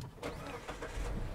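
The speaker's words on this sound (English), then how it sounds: "Is the engine running, Craig?" A 2023 Mazda CX-5 engine runs with a steady, close mechanical hum and rumble, holding an even level throughout with no talk.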